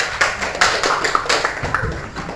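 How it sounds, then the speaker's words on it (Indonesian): A seventh-grade class claps for a group of classmates, a short, uneven spatter of hand claps close by, with sharp individual slaps rising and falling over about two seconds. "tepuk tangan untuk kelompok kedua"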